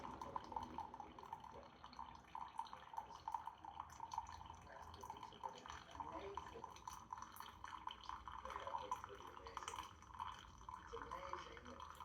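A Ninja Pods and Grounds specialty coffee maker brews, a soft steady trickle of liquid dripping into a cup with faint gurgles, quiet and continuous throughout.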